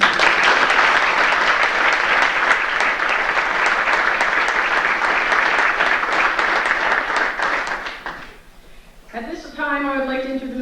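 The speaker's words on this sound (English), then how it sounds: "Please join me in a round of applause for all of them." Crowd at a school senior sports banquet giving a long round of applause, dense and loud for about eight seconds before fading out, followed by someone speaking over a microphone.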